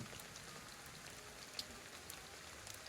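Rain falls in the video game Ghostwire: Tokyo, a soft, steady hiss of drops with a few faint sharper patters, quiet and alone.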